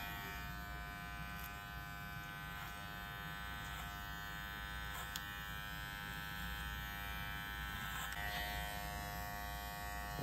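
Electric hair clippers buzzing steadily during clipper-over-comb trimming of a fade in a barbershop, a close, continuous whine with faint cutting crackles.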